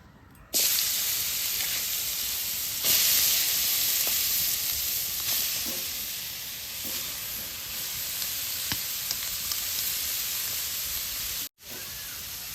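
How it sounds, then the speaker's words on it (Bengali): Boiled, lightly mashed young jackfruit sizzles steadily in hot oil in a pan for a Bengali bharta, a continuous loud hiss with occasional scraping clicks of stirring. "কাঁঠালগুলি তেলের মধ্যে ভাজা নিব।"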